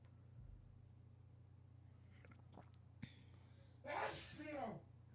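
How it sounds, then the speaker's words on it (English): A person lets out a sudden, close sneeze near the end, preceded by a few faint sniffs and small mouth sounds over a low steady hum. "is having a sneezing fit"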